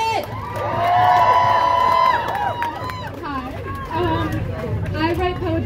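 An outdoor crowd at a Supreme Court rally cheers and shouts for a speaker, whoops and voices swelling loudly, easing briefly, then rising again, with chatter throughout.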